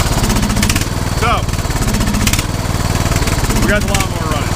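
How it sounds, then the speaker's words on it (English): A lawn mower engine runs steadily nearby with a loud, buzzing drone, while a voice speaks briefly over the noise. "we got the lawnmower running."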